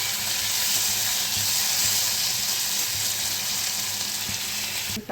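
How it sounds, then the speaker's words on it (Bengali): Potatoes fry in a pan with a loud, steady hiss of hot oil up close, an unbroken sizzle with faint stirring knocks underneath. "আলুটা ভালো করে ভেজে নিই।"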